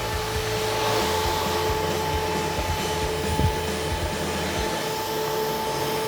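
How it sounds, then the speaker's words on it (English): Steady whine of a compact floor scrubber's vacuum motor with a constant mid-pitched hum and a whirring scrub brush underneath, running without a break, close and loud. "We're gonna turn our brush on and our vacuum motor."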